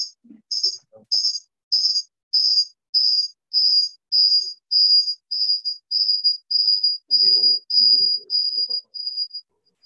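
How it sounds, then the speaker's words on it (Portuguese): A cricket chirping steadily in a quiet room during a council session, a regular series of about sixteen bright, pulsed trills, clear and close, with faint low sounds underneath. "É um grilo."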